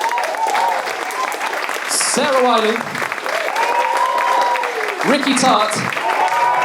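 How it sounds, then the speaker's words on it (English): Audience at a new musical theatre showcase applauding the previous writers, steady crowd clapping running underneath a voice announcing names over a microphone. "let's give a huge round of applause, please, for all of the previous writers that we had"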